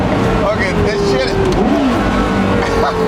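Sports car accelerating hard, engine note rising and sweeping close by under steady cabin and road noise, with people talking over it throughout.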